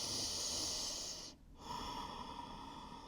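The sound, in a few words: deep breath during floor yoga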